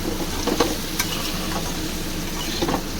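Potatoes fry in a pan for aloo posto, a steady sizzle with a few soft clinks of a spatula partway through and near the end.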